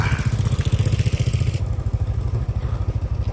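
A motorcycle rolls slowly along a sandy dirt road in a rural village, its engine giving a close, steady low putter with a regular pulsing beat and no one speaking.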